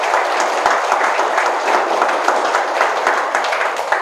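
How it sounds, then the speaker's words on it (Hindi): A seminar audience in a network marketing training session applauding loudly, dense continuous clapping throughout with no talk over it. "एक बार अपने लिए जोरदार ताली बजा लो सभी।"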